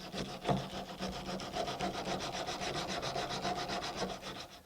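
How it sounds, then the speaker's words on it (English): Steady back-and-forth sanding of mahogany wood, a dry raspy scrape repeating in an even rhythm at close range with no talking. "This being mahogany is going to sand and shape very quickly."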